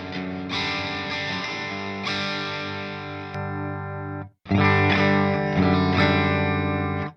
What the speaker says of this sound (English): we have the more fuzz, so the distortion